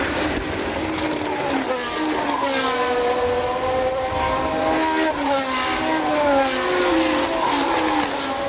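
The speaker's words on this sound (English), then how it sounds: "Once again, the track was wet for the start, which didn't stop Mario Andretti from bounding forward at the green light to keep the advantage of his pole." Formula One cars racing at the 1977 Canadian Grand Prix on a wet track, loud high-pitched engines wailing continuously with pitch sweeping up and down as several cars pass and shift.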